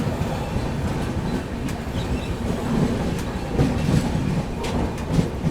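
The Arunachal AC Superfast pulls away through heavy monsoon rain, a steady rumbling wheel roar with faint clickety-clack, continuous and fairly loud with no talk.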